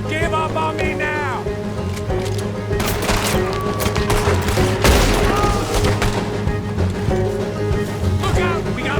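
Gunfire and explosions ring out during a Red Dead Redemption 2 shootout while people talk over the scene, with thuds and loud cracks layered under the voices and a louder blast midway.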